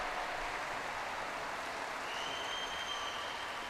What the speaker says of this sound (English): Hands raised aloft, hands clapping.